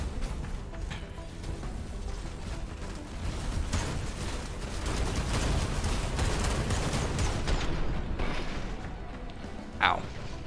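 Gunfire rattles in the Phantom Brigade video game as dense, continuous bursts of shots over a steady mechanical background, with a sharper crack near the end.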